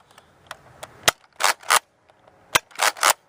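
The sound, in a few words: Nerf Modulus Mediator blaster firing Precise Pro darts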